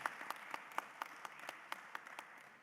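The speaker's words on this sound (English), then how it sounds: "round of applause for our fabulous panel" Sparse audience applause at a trade fair panel, with a handful of distinct claps coming at a steady rhythm, faint and somewhat distant.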